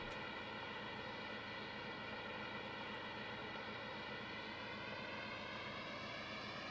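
A steady aircraft engine drones without a break in the FSX flight simulator as the plane taxis, with layered harmonic tones and a slowly rising pitch toward the end.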